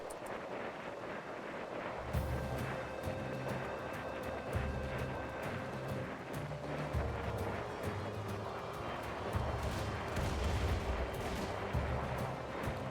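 Rocket fire and explosions in the colony game RimWorld, a dense rumbling barrage of repeated blasts that rolls on steadily over a windy, noisy background.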